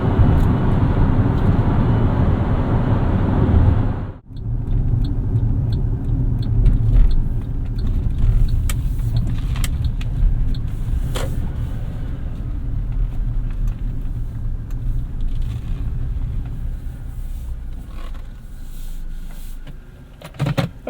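Interior of a 2012 Suzuki Grand Vitara Limited cruising on a highway: steady, loud low road and engine rumble with wind noise throughout, a brief dip near the start, then continuous even drone.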